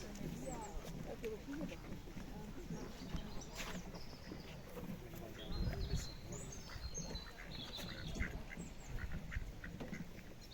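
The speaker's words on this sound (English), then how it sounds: "Over there we could see the ducks." Ducks quack at a park pond in Richmond Park, London, scattered calls at a moderate distance mixed with other bird sounds over outdoor ambience, with a person talking throughout.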